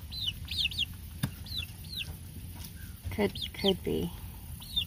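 Young roosters and chickens on a farm cluck and chirp in short, repeated calls, with quiet voices talking nearby and a brief rustle or thump partway through.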